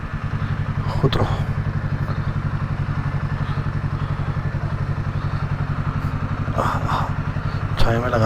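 A motorbike engine runs steadily close by, with a low, even idle throb throughout as it is ridden into a village homestay in the Himalayan foothills and parked; a few clunks and thuds occur along with brief talk.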